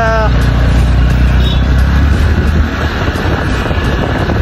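A car driving slowly, heard from inside the cabin: a steady low rumble of engine and road noise with some wind, holding at an even level throughout.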